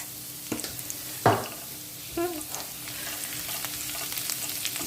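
Garlic and chilli frying in a pan for vegetable fried rice make a soft, steady sizzle, broken by a few brief clatters of stirring near the start and middle.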